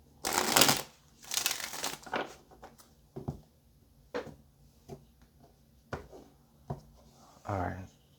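Bursts of tarot cards being shuffled, riffling and flicking in several quick rounds, followed by softer taps and handling sounds with brief pauses between.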